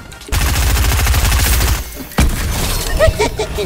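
Rapid automatic gunfire in a shooter video game, a loud sustained burst of evenly spaced shots, then a sharp impact and more scattered firing and clatter, with players talking briefly.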